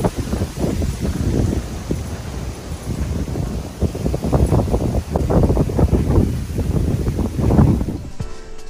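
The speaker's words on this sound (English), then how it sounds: "It's windy and hot, but it's a little too windy to go fishing" Strong gusts of wind batter the microphone in uneven bursts, a rough, roaring buffeting that rises and falls for several seconds.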